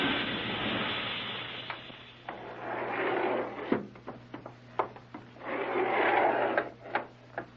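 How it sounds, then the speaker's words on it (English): An elevator approaches with a rising and falling mechanical rumble, punctuated by a series of sharp clunks and clicks as it arrives. "Sounds like another elevator coming."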